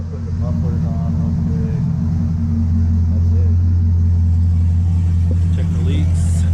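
A Corvette engine runs open without mufflers, a loud steady low rumble that holds constant throughout with a slight rise partway, while people talk faintly beneath it.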